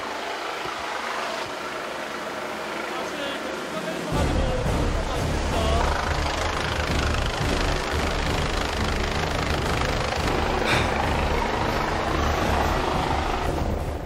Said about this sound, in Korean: 현재 연막탄을 피워서 저의 위치를 알리고 헬기가 도착한 직전입니다